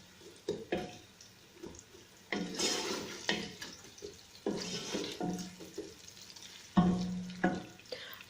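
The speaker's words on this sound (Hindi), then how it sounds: "फिर इसमें मैं प्याज ऐड करती हूँ।" Onions frying in moderately hot oil for kadhi pakora, a steady sizzle with stirring scrapes and clatter in a home kitchen, and a brief low hum near the end.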